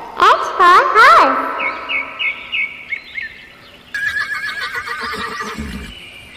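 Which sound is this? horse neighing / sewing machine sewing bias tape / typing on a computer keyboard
horse neighing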